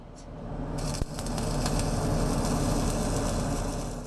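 Steady, dense crackling sizzle like bacon frying, a flux-cored welding arc on a fill pass running continuously at close range with a low hum underneath and one brief pop.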